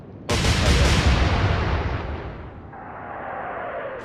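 Naval guns firing in the Atlantic Fleet warship game, one loud booming salvo that rolls on as a long fading rumble, then a lower sustained roar.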